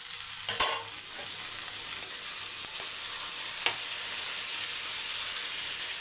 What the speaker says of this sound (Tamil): வெங்காயம் பார்த்திங்கன்னா இந்த அளவுக்கு நல்லா எயிட்டி பர்சன்ட் வதங்கணும் அதுக்கப்புறம் நல்லா பெரிய சைஸ் தக்காளி ஒரு நாலு தக்காளி எடுத்திருக்கேன்